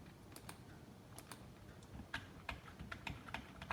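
Computer keyboard arrow keys pressed in SolidWorks, quiet irregular clicks in short clusters, some keys tapped repeatedly, close and faint over a low background hum.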